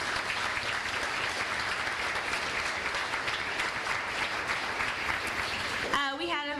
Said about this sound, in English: Give her a round of applause now.